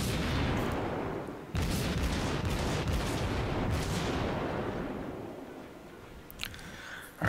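Main guns of a Kuma tier 4 light cruiser firing in the naval game World of Warships: a heavy salvo booms in, rumbles on with a long rolling tail that slowly fades, then a few sharp cracks follow near the end.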